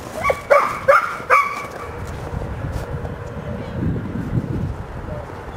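A young chocolate lab and pit bull mix barks several times in quick succession in a kennel's outdoor run, sharp and close at first, then gives way to a softer rustling, windy background.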